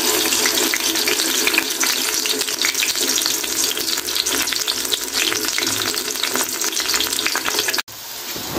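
Potato kebabs with tomato frying on a low flame, a dense, steady sizzle and crackle of hot oil throughout, close and loud, cutting out briefly near the end.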